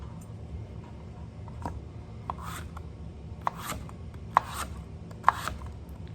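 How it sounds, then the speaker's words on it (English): A knife slices lengthwise through a chayote (christophine) with the skin left on, giving a few quiet, scattered cuts and sharp taps against a cutting board over low room noise. "And I'm just cutting lengthwise."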